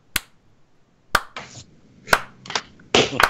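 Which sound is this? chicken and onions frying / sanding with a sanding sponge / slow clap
slow clap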